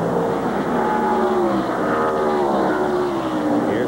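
Race cars roar around the Watkins Glen road course during the 1993 Bud At The Glen, a continuous loud engine drone with shifting pitch as cars sweep past, including Tom Kendall's Family Channel Ford.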